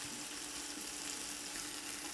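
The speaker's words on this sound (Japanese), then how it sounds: "割とちゃんと炒めましょう。" Vegetables stir-fried in a pan for Japanese braised meat and potatoes give a steady, close, continuous sizzle with faint stirring, no talking.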